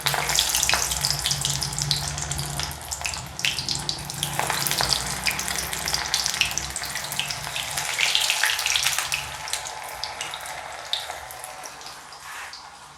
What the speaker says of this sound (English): Now we need to fry them. So let us start frying.